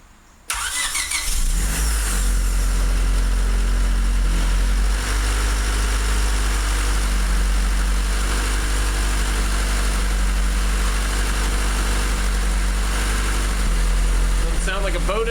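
A Honda D16Y8 engine with a turbo wastegate cranks and catches, then settles into a steady, loud idle with a low droning rumble that runs unbroken to the end.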